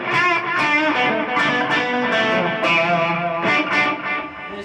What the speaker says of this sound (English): And it's just sort of like an echo.